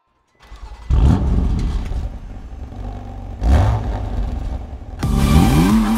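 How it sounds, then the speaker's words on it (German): A BMW M4 engine revs and accelerates hard in three loud, close bursts, each rising sweep of engine pitch climbing through the gears with no talk over it. "PS katapultieren den M4 in glatten 4 Sekunden auf 100"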